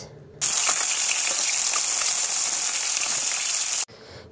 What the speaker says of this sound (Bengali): কাতলা মাছ নিয়ে এসেছিলাম, ভাজা বসিয়ে দিয়েছি